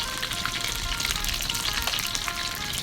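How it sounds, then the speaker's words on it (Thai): Hot oil crackles and sizzles continuously in a pan, a dense hissing spatter at steady volume with no voices. "ตอนนี้ น้ำมันก็เริ่มเดือดแล้วครับ"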